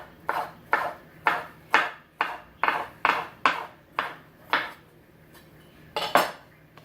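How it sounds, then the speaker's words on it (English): A knife slices okra on a board in about a dozen crisp, evenly spaced cuts, each a sharp tap with a short clink, close and clear with no talk. "I'm going to cut it in half, and then I'm going to slice it."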